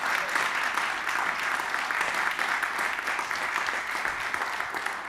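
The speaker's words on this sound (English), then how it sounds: "I'm going to ask the in-person audience to applaud especially loud" An in-person audience at a climate change event applauds, steady sustained clapping from many hands, fairly loud and even throughout with no voices standing out.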